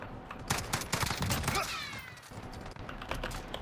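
Rapid bursts of video game gunfire crackle in dense volleys, loud and near, with brief pauses and a faint voice beneath.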